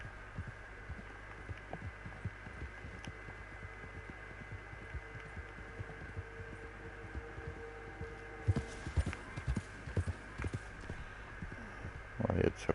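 A horse's hooves thud in a steady, regular clip-clop as it is ridden downhill toward a swamp in a hunting video game, over a constant low hum, with a few louder knocks near the end.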